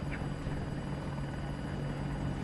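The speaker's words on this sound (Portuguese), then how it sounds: "Nossa, parecia até que ia falhar o rotor do helicóptero." Apache attack helicopter in the video game Battlefield 2042, its rotor and engine giving a steady, loud, droning whir with a low rhythmic thrum that runs unbroken throughout.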